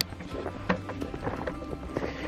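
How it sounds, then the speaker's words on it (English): Goats run through snow, their hooves making quick, irregular thuds and scuffs that come and go nearby, with no voices over them. "Look at these crazy goats."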